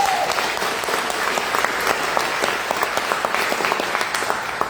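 Church congregation applauding during a sermon, a dense steady wash of many hands clapping that carries on through the whole stretch at even loudness, with no voices over it.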